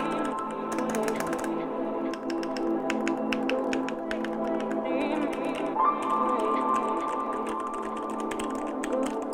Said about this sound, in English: this keyboard is pretty great. I'll give you guys a small sound test here.